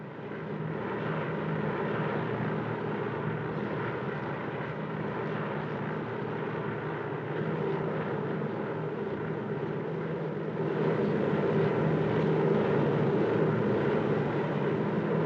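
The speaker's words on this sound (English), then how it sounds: "I'm somebody flying in a strange plane to a strange place with a lunatic pilot" An airplane in flight gives off a steady, loud engine drone that fills the cabin and rises slightly in level toward the end, with no talk over it.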